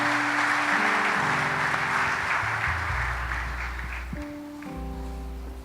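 A church congregation applauding during a worship service, sustained dense clapping from a large crowd, loud at first and gradually tapering off.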